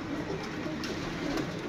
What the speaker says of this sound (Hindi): प्योर मियाँ साहब वाली कबूतरी है अल्हम्दुलिल्लाह